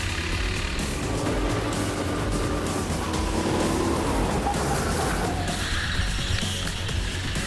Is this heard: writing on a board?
no